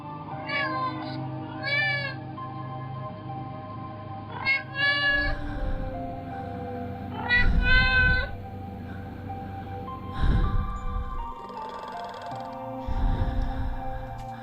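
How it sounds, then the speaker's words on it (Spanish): A house cat meows several times in a row, drawn-out calls with a rising and falling shape that resembles someone saying "mamá". Low, dark-toned thumps and rumbles fill the gaps between the calls. "decidí grabar un video donde el gato me dice mamá"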